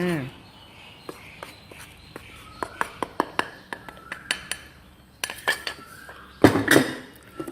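A spoon scoops rice flour into a bowl, with a string of light metallic clinks and taps that grows busier toward the end, while someone talks over the kitchen sounds.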